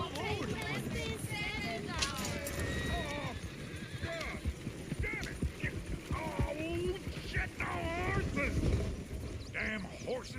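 Horse hooves in Red Dead Redemption 2 clatter in a quiet outdoor scene, a rapid uneven clip-clop going on throughout, with several voices talking over them and a few whinnies.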